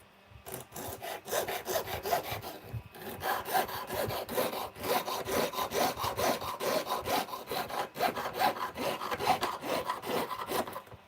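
A hand saw rasps steadily through wood while cutting bookmarks, in quick, even back-and-forth strokes, close and continuous with a short pause near the start.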